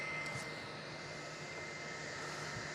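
An airliner arriving from Hobart on short final at Melbourne Airport makes a steady, faint, distant jet engine roar that holds constant throughout.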